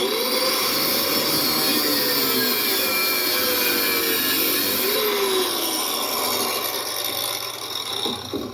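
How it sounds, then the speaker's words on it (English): A cut-off grinding wheel slices across the top of a caster rivet held in a clamp, for a low-profile creeper. It gives a loud, steady abrasive scream that runs unbroken for several seconds, then eases slightly near the end. "I'm going to use my cut-off grinding wheel to cut across the top of the"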